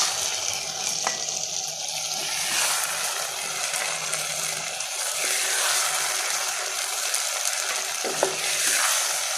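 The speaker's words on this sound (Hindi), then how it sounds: "कितनी प्यारी आवाज़ आ रही है, बिल्कुल ठीक से ये भून गई है।" Potato, spinach and fenugreek curry fries in a pan while being stirred, a continuous bright sizzle with soft scraping and stirring strokes, close and fairly loud, no voices.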